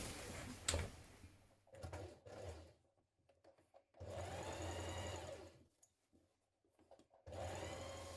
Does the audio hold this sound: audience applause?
no